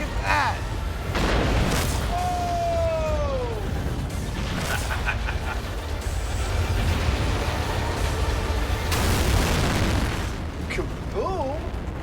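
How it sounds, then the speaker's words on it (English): An explosion set off during a Mythbusters duct tape test, a loud roaring boom that rumbles on for several seconds, with excited voices talking and exclaiming over it. "Kaboom."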